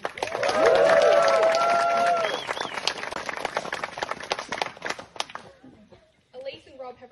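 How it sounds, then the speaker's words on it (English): Wedding guests at an Australian ceremony cheer and applaud the couple, a loud swell of crowd cheering and clapping that peaks early, then tapers into scattered claps and murmurs. "Let's give them a big cheer."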